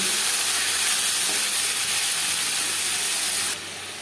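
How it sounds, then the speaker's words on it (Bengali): Potatoes and gravy added to panch phoron and bay leaves frying in oil for a rohu fish curry, producing a loud, steady hissing sizzle that drops slightly in level near the end, with no talking. "পাঁচফোড়ন তেজপাতা ভেজে নেওয়ার পর দিয়ে দেবো আলু আর ঝোল"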